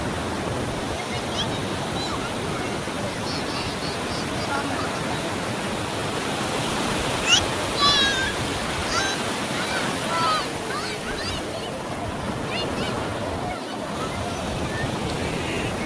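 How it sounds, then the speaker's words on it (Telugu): Broadband wash of surf rolling onto a beach, steady and fairly loud throughout, with brief faint voices and chatter from beachgoers in the background. "finally beach"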